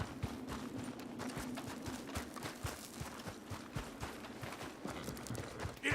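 Horse hooves clip-clop steadily at a walking pace across the ground in Red Dead Redemption 2, a close, rhythmic series of dull knocks carried over a constant background wash.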